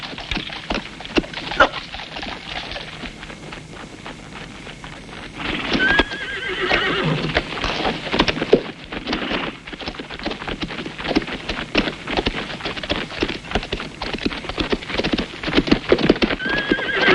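Horses neigh and whinny while hooves clatter in a quick galloping clip-clop, close and busy, mixed with rustling movement and scattered scuffs.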